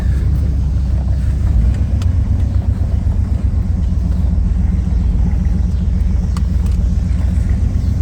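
A Chevrolet Silverado pickup with Flowtech headers rumbles loudly and steadily during a 0 to 60 run, building in a continuous low roar as it gains speed, with no talking.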